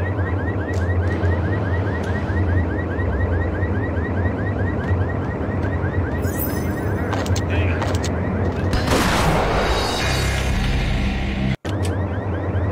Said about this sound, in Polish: Ten wampir ginie po iluś tam strzałach.